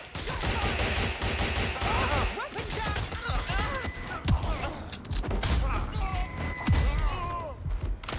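Gunfire from Watch Dogs Legion, with repeated sharp shots and a couple of heavy thuds, mixed into dense game effects and music throughout, with a voice talking over it.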